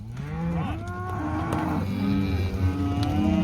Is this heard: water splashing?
no